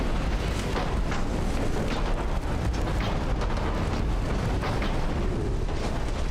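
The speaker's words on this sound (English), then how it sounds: "And my torpedoes managed to hit." Torpedo hits explode against enemy warships during a US naval battle set in 1902 in Ultimate Admiral: Dreadnoughts, a loud, dense roar of blasts and rumbling that runs steadily through the whole stretch with no talking.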